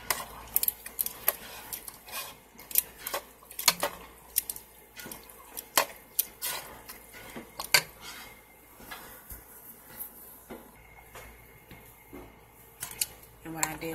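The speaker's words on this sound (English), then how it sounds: "Now, we're going to give it a stir." A fork stirs chicken Manwich in a cooking pot, making scattered light metallic clinks and scrapes against the pot at an irregular rhythm, fairly faint and close.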